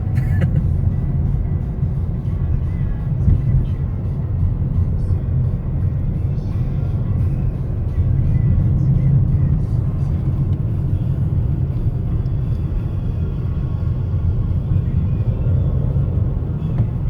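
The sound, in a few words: cars driving past on a small-town road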